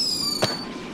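A single firework rocket goes off in the video game Nevertales, a short sharp burst over a steady, faintly whistling background tone.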